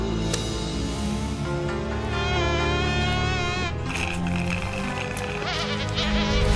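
A mosquito buzzes in a Ninjago cartoon, a continuous whining drone that wavers in pitch and runs steadily under layered background music without pause.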